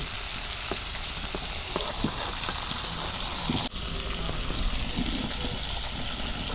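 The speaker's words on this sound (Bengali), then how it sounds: "দেখো কি সুন্দর করে আমি মাছগুলা ভাজা নিলাম" Fish frying in hot oil in a village kitchen, a loud continuous crackling sizzle with scattered pops and brief stirring clatters, close and unbroken.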